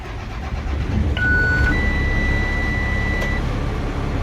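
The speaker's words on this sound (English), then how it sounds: "I'm going to turn on my bus." A school bus engine cranks and settles into a loud, steady idle, with a dashboard warning tone beeping and then holding a long electronic note over the rumble.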